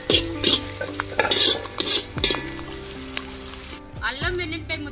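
Chicken biryani masala stirred in a kadai over a wood-fired stove, with the ladle scraping and clattering against the metal in repeated close strokes over a soft sizzle, while a voice talks over it.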